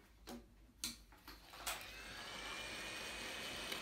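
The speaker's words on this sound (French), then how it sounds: "On va maintenant utiliser notre décapeur thermique ou sèche-cheveux." A heat gun blows a steady airy whoosh while heating a smartphone's broken screen for removal, rising into a constant hiss after a few soft clicks and handling taps at the start.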